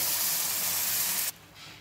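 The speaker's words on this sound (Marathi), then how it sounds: "शिजलेली भाजी यामध्ये आता टाकायची आहे।" Cooked spinach dropped into hot tempering oil with mustard seeds, asafoetida, cumin and chili, giving a loud, steady sizzle that cuts off sharply near the end, leaving a faint quieter hiss.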